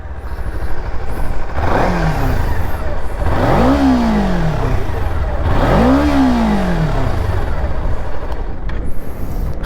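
A Kawasaki Ninja 300 motorcycle engine revs loudly and up close in two rising and falling sweeps, with a steady engine drone running underneath throughout.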